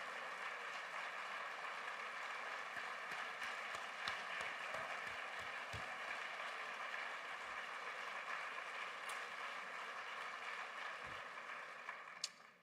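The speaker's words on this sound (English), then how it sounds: "That deserves another round of applause and another standing ovation." A crowd at Cleveland Mayor Justin Bibb's State of the City address gives sustained applause and a standing ovation, heard as a fairly faint, even wash of clapping that holds steady for over twelve seconds.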